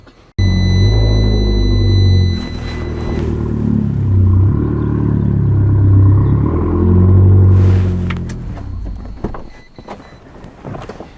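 A car is winched slowly lengthwise onto an RV hauler, giving a loud, steady mechanical rumble and drone that runs continuously for most of the clip before tapering off near the end.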